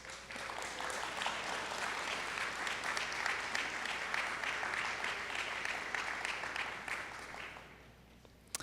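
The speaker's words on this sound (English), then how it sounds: "We want to give these faculty a wonderful round of applause." Steady, dense applause from a convocation audience in a hall honoring faculty award recipients, sustained for several seconds before fading out at the end.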